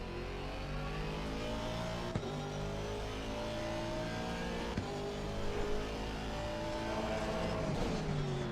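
An Aston Martin race car in Assetto Corsa Competizione at the Red Bull Ring, its engine droning steadily and loudly through the gears, with a few sharp upshift clicks and rising revs and no talking.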